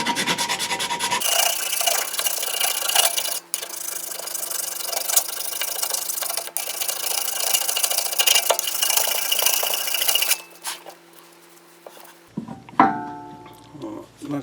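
Surface corrosion is scrubbed off a 1997 Audi A4 brake part in a continuous, close, harsh rasping scrub that runs for about ten seconds before giving way to lighter handling clatter.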